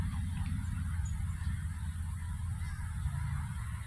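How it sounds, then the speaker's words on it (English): Young geese honking nearby over a low rumbling background, with repeated calls blending into a steady noisy bed. "These look like young geese."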